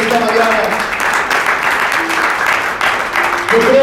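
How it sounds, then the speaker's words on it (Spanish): Church congregation applauding during a Sunday morning service, a steady dense wash of clapping with voices and a few sustained tones mixed in. "Den un aplauso al Dios Todopoderoso en esta mañana"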